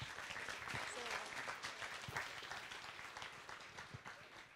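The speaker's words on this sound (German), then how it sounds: "Und da auch nochmal einen Applaus für" Audience applause at a hacker congress talk, a dense steady clapping texture that stays fairly even throughout, quiet overall, with a hint of a voice mixed in.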